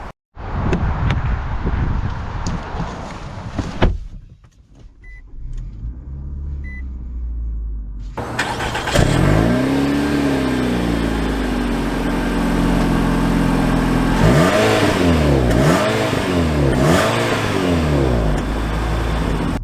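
A 2022 Nissan Altima Midnight Edition AWD idles briefly, then drives off with a steady, loud engine and road rumble, rising and falling through several acceleration surges, heard alone and close.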